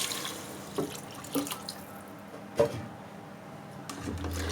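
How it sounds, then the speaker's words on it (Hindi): Water, four to five glasses, is poured into a pot of browned mutton trotters with yogurt, giving soft splashes and a few sharper pours over a quiet kitchen background. "अब इसमें मैं शामिल कर रही हूँ 4 से 5 गिलास पानी के।"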